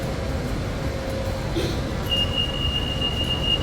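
A Bangkok MRT subway train rumbles steadily underground, with a thin high metallic squeal of wheels rising midway and holding to the end.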